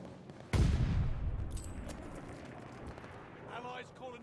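A mortar barrage in Call of Duty: Vanguard multiplayer lands as one sharp, loud impact followed by a long decaying rumble. Fainter crackles come after it, and speech is heard in the background.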